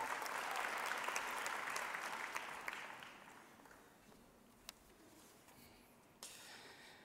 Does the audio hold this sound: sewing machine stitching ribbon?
no